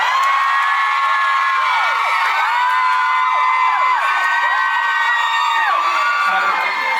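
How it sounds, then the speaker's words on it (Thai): A large crowd of fans at a Thai series finale talk event screams and cheers continuously, shrill overlapping voices rising and falling in loud, sustained waves. "เราให้เขากรี๊ดเสร็จก่อน"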